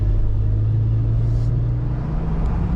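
A car out on the road for a test drive after a brake job gives a loud, steady low engine and road rumble, close and continuous, with no talking.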